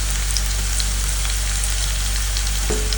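Ground turmeric, chili powder and salt fry in a pan, a loud continuous sizzle over a low steady hum, with a single stirring knock near the end and no speech.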